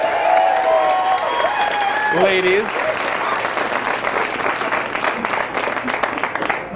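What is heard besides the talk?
audience applause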